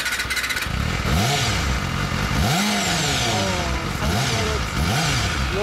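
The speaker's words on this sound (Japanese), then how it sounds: "エンジン音聞かせてもらえる？" A 250cc four-cylinder motorcycle engine, a Yamaha YZF-R25 era bike with an aftermarket muffler, revs hard four times in a row, each throttle blip rising and falling sharply, loud and close with a steady idle between.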